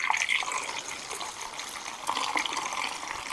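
Coolant glugs and splashes as it pours steadily from a jug into a Polaris Sportsman ATV, close by, with gurgling bubbles throughout.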